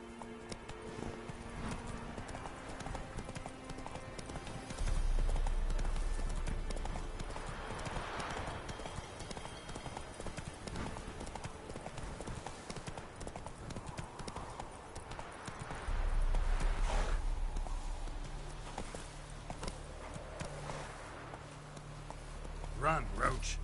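Rhythmic clip-clop hoofbeats come from a galloping horse in The Witcher video game. The beat runs continuously, and game music and voices play beneath and over it.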